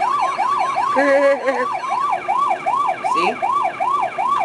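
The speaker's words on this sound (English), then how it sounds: "Actually, Supreme Prime and Bulkhead have the same siren." Electronic siren from a Transformers Animated Leader Class Bulkhead toy, a repeating wailing rise-and-fall tone cycling steadily and loudly throughout, with a brief spoken word over it near the middle.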